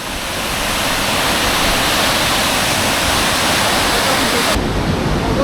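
A waterfall by a raging river gives a steady, loud roar of rushing water that swells at first and then holds constant, with its tone dulling slightly near the end.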